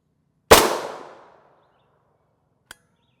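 A single gunshot is fired at a Tactical Scorpion Level IIIA UHMWPE rigid armor plate. It is one loud, sharp crack that rings out and fades over about a second, followed by a small, faint click.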